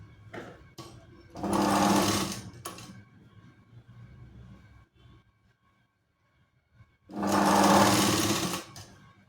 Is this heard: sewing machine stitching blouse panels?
yes